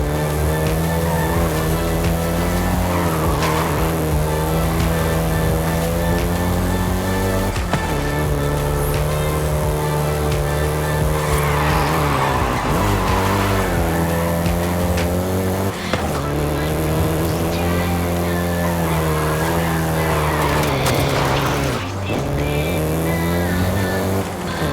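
A Volkswagen Golf GTI driven in the racing game Forza Horizon 5, its engine droning loud and continuous, pitch climbing and dropping through acceleration and gear changes.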